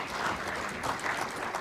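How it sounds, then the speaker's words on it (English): Brief applause rises from the audience at a conference of African parliamentary speakers, a soft, distant patter of many hands clapping that lasts under two seconds. "A big round of applause, please,"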